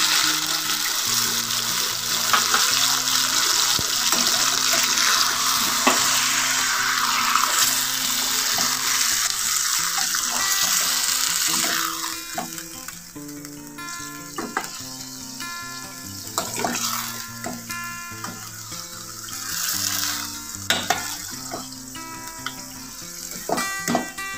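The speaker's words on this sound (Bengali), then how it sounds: "এবারে আমি বাটাটা ছেড়ে দিচ্ছি।" Coriander paste is tipped into salted chicken frying in a pan, giving a loud, rushing sizzle that bursts up first and then settles into a quieter crackle, with scattered clicks of stirring and no voices.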